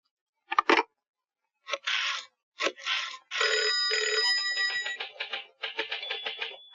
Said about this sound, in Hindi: एक फोन तिवाड़ी को हो जाए